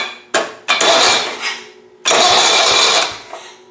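A John Deere Hydro 165 lawn tractor, recently fitted with a new ignition switch, is started with the key; two loud, close bursts of harsh mechanical noise follow one after the other with a short gap between them.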